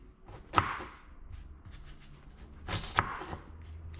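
Onions being chopped on a board for onion gravy, two close, sharp knife strokes with short scraping in between, no talking.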